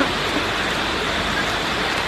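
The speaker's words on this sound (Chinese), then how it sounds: "下大雨漂流，问题有没有见过？" Heavy rain pours during river rafting in a gorge in Qingyuan, Guangdong, a dense, even wash of water noise that stays loud and unbroken throughout.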